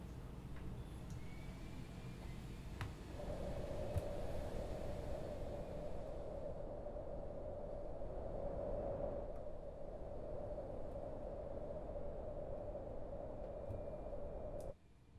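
Steady white noise from a Massive synth noise oscillator, heard alone with no talk; after a few seconds it is filtered into a narrower, brighter hiss with a whistling band, and it holds evenly until it cuts off abruptly at the end.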